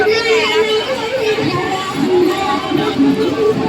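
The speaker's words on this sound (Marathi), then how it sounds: "खूप सारी गर्दी आहे नागोबाच्या यात्रेत" A large crowd chatters at a Nagpanchami snake temple fair, with overlapping voices forming a constant, close babble that runs throughout.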